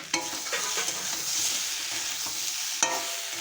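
Turmeric and spices stir-fried in a pan for a Bengali katla fish curry, a steady close sizzle with scraping stirs and a few sharp utensil knocks.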